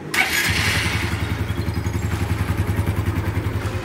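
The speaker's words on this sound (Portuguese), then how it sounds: "A moto já pegou, galera." A Honda Biz 125 motorcycle engine, with a fault of no spark at the plug, cranks and catches, then settles into a loud, rapid, steady putter close by; no voices.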